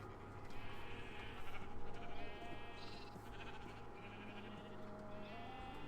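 Blocky Minecraft sheep bleat repeatedly in a game world, several quavering calls following one another over a steady background of game music and ambience.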